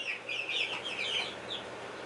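Homestead chickens and ducks cluck and chirp softly in a short, faint run of overlapping calls with no voices.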